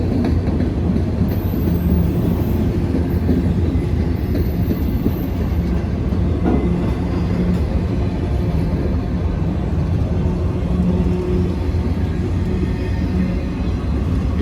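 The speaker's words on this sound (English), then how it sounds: "52 axles on this train. This is a long one." Long freight train of about a hundred four-axle cars with five six-axle locomotives rumbling across a railroad bridge, a loud, continuous low rolling roar with faint wheel clatter and a brief squeal, no talking.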